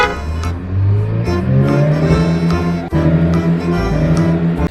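A toy Tayo bus gives off a loud, steady engine-like drone with rising revving tones, running continuously with a brief dip midway and no talking.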